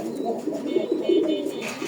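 A pigeon coos in a short series of soft, low, throaty calls close to the microphone, alone with no talk.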